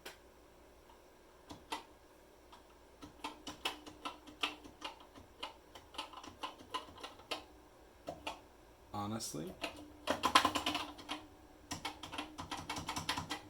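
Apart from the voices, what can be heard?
typing on a Commodore SuperPET keyboard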